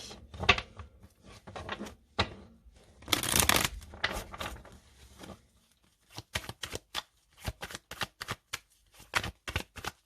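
Oracle cards shuffled and drawn: a dense, papery riffle burst among softer rustles, then a quick run of crisp, separate card snaps and slaps close by.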